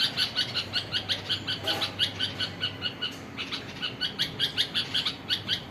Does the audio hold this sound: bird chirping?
yes